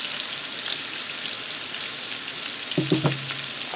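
Shallot sautéing in hot oil gives a continuous bright sizzle and crackle, with a few short tong clatters and knocks near the end.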